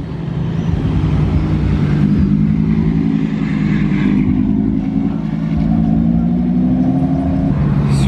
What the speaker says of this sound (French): Et V10 avec une grosse ligne d'échappement.